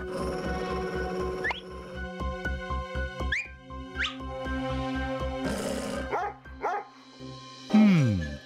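Cartoon dog barking in short bursts over a busy musical score with whistles and whooshing effects, the barks scattered across the scene rather than isolated.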